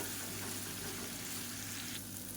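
Slices of raw banana fry in oil in a pan, giving a dense, steady crackling sizzle that stays close and unbroken, with no voices.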